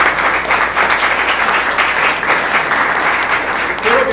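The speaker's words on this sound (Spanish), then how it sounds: "quiero pedir un aplauso para Bernardo Infante." Loud, dense audience applause fills an academic lecture hall on ethics and politics, a continuous roar of many hands clapping at once without pause, close and strong throughout.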